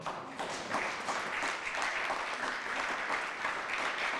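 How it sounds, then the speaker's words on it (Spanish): A church congregation bursts into applause, a dense, even crackle of many hands clapping that holds steady for several seconds with no voices over it. "ahí está, un aplauso"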